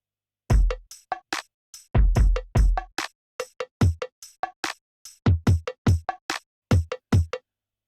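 Punchy electronic kick drums from an OP-Z play in short rhythmic patterns, first in one run and then repeated after an octave switch, each hit dry, close and separated by silence.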